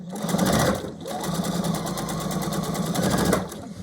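A sewing machine stitches scrap rectangles and squares into a quilt block, its rapid, close mechanical whir running steadily with brief pauses.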